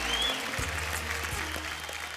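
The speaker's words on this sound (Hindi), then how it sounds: "जोरदार तालियां हो जाए" Audience applause on a televised dance competition stage, a soft continuous clapping wash heard under a low music bed with occasional thumps.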